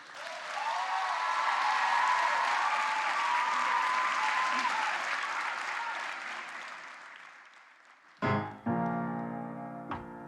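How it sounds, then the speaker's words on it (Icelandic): Sustained crowd applause at a student music contest, loud and steady for several seconds, fading out before a band begins playing. "Gefum honum gott klapp."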